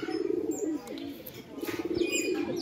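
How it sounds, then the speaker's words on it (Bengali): Pigeons coo in low, throaty rolling phrases, repeating steadily, with a few higher chirps mixed in nearby. "দেখুন পায়রাগুলো দেখুন।"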